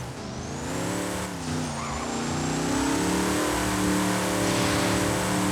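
A 2009 Hummer H2 SUV in the Roblox game Driving Empire revs and accelerates, its mid-pitched engine note climbing steadily and loud throughout, with a faint high whine above it.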